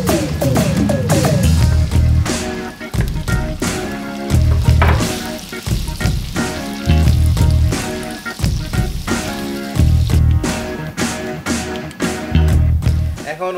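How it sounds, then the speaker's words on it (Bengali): Onions fry loudly in hot oil for spicy fried rice, a dense steady sizzle broken by repeated scraping stirs of a utensil in the pan, close up throughout. "এখন অনিয়ন গুলা ব্রাউন কালার না হওয়া পর্যন্ত এগুলোকে নাড়াচাড়া করতে থাকুন একটু পরপর"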